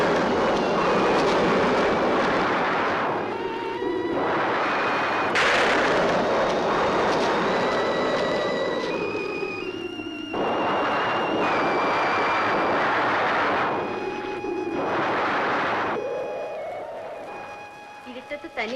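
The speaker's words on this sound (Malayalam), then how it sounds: "ഇടി മഴയും വരണുണ്ട്" Deep rolling thunder from an approaching thunderstorm rumbles in several long, loud waves with sharp cracks, mixed with a dramatic film score and occasional voices.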